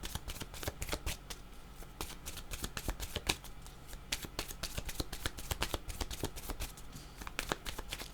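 Cards shuffled for a card reading, a close rapid series of crisp riffling and tapping bursts that keeps going throughout with no talking.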